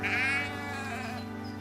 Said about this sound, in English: They are proud to own their very own flock of 2 sheep.